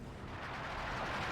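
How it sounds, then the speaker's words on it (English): Faint, distant rumbling of a high explosive artillery barrage in Company of Heroes 2, a steady muffled roll of impacts with no clear individual shots. "And we got a high explosive barrage in return"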